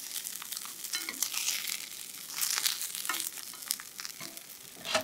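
Meat-wrapped rice balls pan-fry and sizzle in a hot pan, giving a steady close hiss with bursts of crackle and spatter that swell and fade over several seconds.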